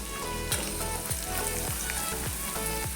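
Hot oil sizzles and crackles steadily as dry spices such as turmeric and coriander-cumin powder fry, with a few stirring scrapes and clinks along the way.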